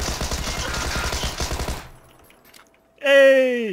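Tommy gun machine gun fire in a video game: rapid bursts of loud gunfire for about two seconds, then a quiet pause, followed by a sudden loud tonal game sound at the end.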